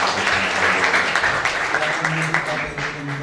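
A church congregation applauds together at an Ascension Day service, a dense, steady wash of clapping held for several seconds with a few voices and low tones running underneath.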